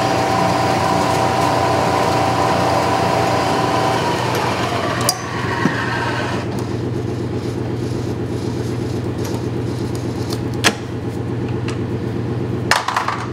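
A milling machine climb milling a ram rod retaining block runs with a steady motor whine and hum, with sharp clicks and knocks at intervals as the cutter engages the workpiece, heard alone without talk.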